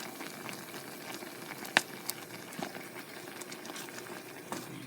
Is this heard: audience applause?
no